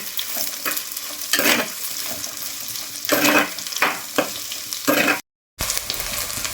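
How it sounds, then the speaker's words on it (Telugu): Sliced onions sautéing in a pan for a fenugreek leaf curry, with a steady sizzle and repeated bursts of spatula stirring; close, with one brief total dropout near the end. "ఉల్లిగడ్డ మంచిగా మగ్గుతుంది"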